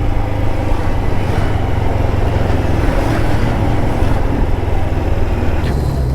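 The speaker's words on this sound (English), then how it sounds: "Oh, motorbikes." Loud, continuous rumble of motorbikes passing close by on a street near a biker bar in Benidorm, Spain, engine drone filling the whole stretch with no talk.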